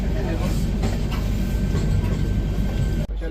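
Inside a moving special train carriage, a dense, loud low rumble runs without a break, with faint voices mixed in before it cuts off abruptly near the end.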